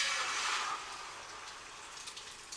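Liquid egg mixture hitting an oiled pan, a steady close sizzling hiss that starts loud and settles slightly quieter, with no voices.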